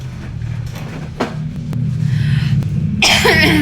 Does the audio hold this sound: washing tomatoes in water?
no